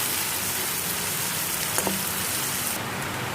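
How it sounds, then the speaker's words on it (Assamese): Onion, ginger and garlic paste sizzles steadily in a pan with bay leaves, a dense, even crackling hiss close by with a couple of small clinks and no talk. "এতিয়া এইখিনিও মই অকণমান টাইম ভাজি ল'ম।"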